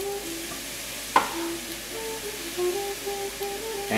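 Turkey sausage sautés in a pan, a moderate steady sizzle with a sharp clack of a utensil early on and a faint background hum.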